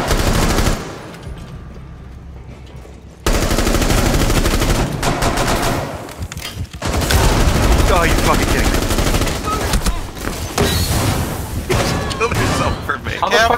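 Gunfire in the video game Rainbow Six Siege during a Chalet hostage team deathmatch, with loud rapid automatic bursts and scattered thuds, mixed with game noise and a player talking.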